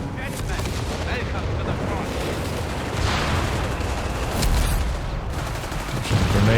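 In a Company of Heroes 3 battle, a grenade goes off amid steady gunfire, rattling bursts and booms rolling on continuously, loud and dense, while a commentator talks over the fight.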